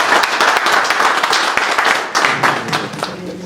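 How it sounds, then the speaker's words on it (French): An audience applauding at a Rotary Club handover ceremony, steady, dense clapping from a crowd throughout, close and loud. "nous demande encore d'applaudir."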